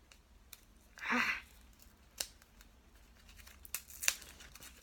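Paper wrapping on a package rips and crinkles in a few short close bursts, one longer tear followed by sharper tearing snaps, with quiet rustling between them.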